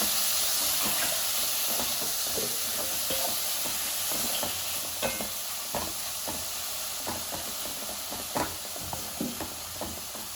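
Dried prawns fry in a pan over a lowered stove flame, giving a steady, dense hiss and sizzle with scattered sharp clicks and scrapes from stirring, no voices.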